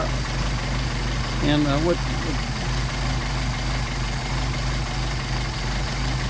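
A car engine fitted with a Solex carburetor idles at a steady, even drone, close and loud throughout, while someone speaks briefly over it.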